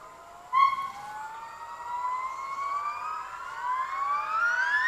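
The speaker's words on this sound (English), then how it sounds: "Yellow-cheeked gibbons mark their territory using loud noises rather than physical signs." Yellow-cheeked gibbons in the forests of Vietnam give a territorial song bout: long, rising, whooping tonal calls that sweep upward and overlap, faint and distant against a quiet background.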